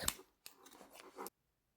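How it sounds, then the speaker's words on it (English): Scissors snipping crochet yarn, a short close sequence of two quick cuts with a faint rustle of yarn between them, followed by silence. "Now cut the yarn"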